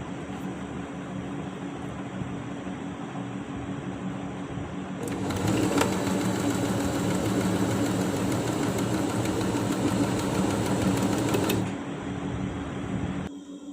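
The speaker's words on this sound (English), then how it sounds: "align the edges neatly and machine the two pieces up at 1 centimeter" A sewing machine stitches two layered fabric pieces at a 1 cm seam allowance for a flat fell seam, a steady rapid whirring run of about six seconds that starts and stops cleanly over quiet room hum.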